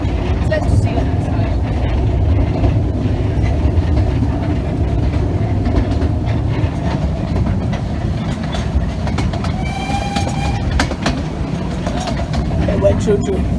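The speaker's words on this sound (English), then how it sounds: "It went choo-choo." Train running along a narrow railway in Wales, a steady rumbling clatter of wagons held close and loud throughout, with people talking over the rolling noise.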